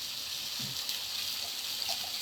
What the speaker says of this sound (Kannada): ಇದೇ ಜಾರ್ ತೊಳೆದ್ಬಿಟ್ಟು ಸ್ವಲ್ಪ ನೀರು ಹಾಕ್ಕೊಳ್ಳೋಣ